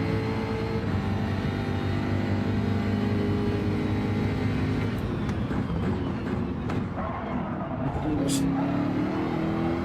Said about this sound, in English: It's that unreal acceleration when it gets into the rev band.